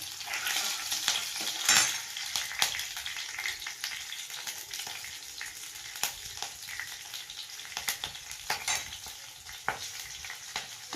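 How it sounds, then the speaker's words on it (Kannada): Urad dal and green chillies fry in a pan, giving a soft continuous sizzle with occasional clicks and taps from stirring, fairly quiet and close. "ಸ್ವಲ್ಪ ಒಂಚೂರು ಫ್ರೈ ಮಾಡಿ ಹಸಿಮೆಣಸಿಕಾಯಿ"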